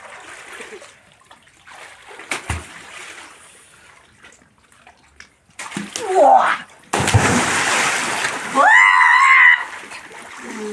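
A bather leaps into a village well at night and water splashes loudly, followed by sloshing and trickling, with people talking and calling out around it.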